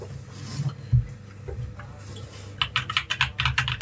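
Mechanical keystrokes on an Akko 3061S keyboard with foam dampening, a few scattered presses followed by a quick, close run of typing that grows louder toward the end.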